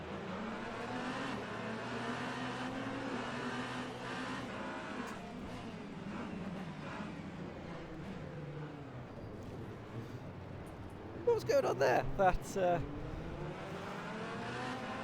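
Race cars lapping Spa in Le Mans Ultimate, a steady engine drone with shifting revs and cars passing close, a brief burst of louder mechanical noise near the end, with someone talking over it.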